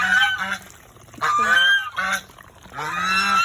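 Several geese honk loudly and close by in repeated bursts, harsh nasal calls overlapping with brief pauses between.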